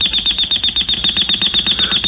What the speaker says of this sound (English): The alarm, honey